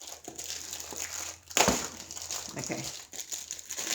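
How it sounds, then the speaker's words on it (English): Plastic packaging from a parcel holding a diamond painting kit crinkles and crackles close by during unboxing, with one sharp crushing rustle in the middle and a brief spoken word. "It was in a bubble mailer and another plastic baggie."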